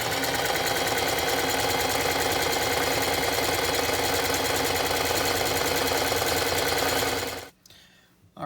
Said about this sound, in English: I have a sewing machine, so I'm going to use it.